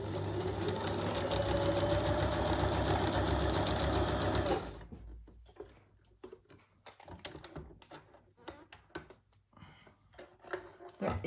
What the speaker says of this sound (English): I'm going to also sew this side, but with a normal straight stitch again.